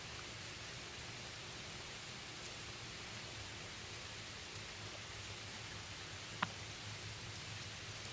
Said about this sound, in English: even though it's raining a little hard, you can kind of hear it